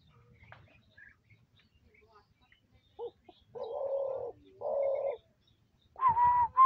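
Caged hunting doves (ghughu) give a few short, close cooing phrases in a quiet setting, with two longer steady coos and a louder call at the end.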